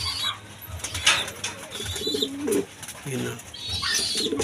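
A pigeon coos in low repeated phrases, close by, with brief wing flaps mixed in and a person's voice talking over part of it.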